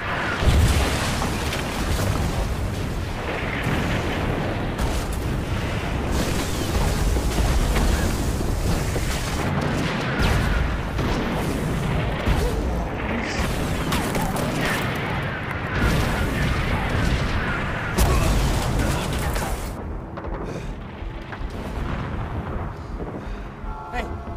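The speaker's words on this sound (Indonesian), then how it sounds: "serangan artileri yang bertubi-tubi langsung diluncurkan oleh tentara Jerman" German army artillery barrage, dense continuous rumbling booms and blasts layered without pause, loud and heavy throughout, fading slightly near the end.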